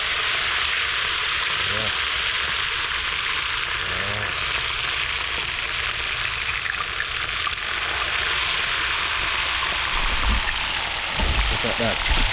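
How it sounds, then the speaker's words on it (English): Red snapper fries in hot oil, a loud, steady crackling sizzle like heavy rain that runs throughout, with someone talking briefly over it and a few louder pops and stirring sounds near the end. "And the oil hot, So right now, hope you see it good right now. Oil hot."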